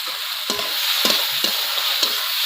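Boiled potatoes are stirred into a fried spice paste in a pan, a constant oily sizzle broken by four rhythmic scraping strokes of a spatula, close and clear with no talk.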